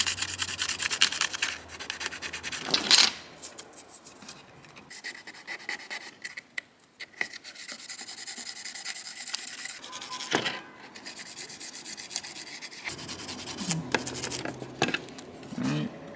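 Electrical connectors on a Williams World Cup '78 pinball machine being rubbed with 1000 grit sandpaper, a close, dry scratchy rasp in uneven strokes with short pauses and occasional knocks.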